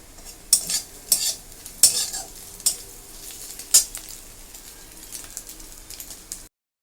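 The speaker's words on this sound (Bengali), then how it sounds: "ডিমটা ভাজা হচ্ছে।" An egg sizzles in a frying pan while chowmein is cooked. A steady hiss runs underneath sharp, intermittent clinks and scrapes of a utensil stirring against the pan.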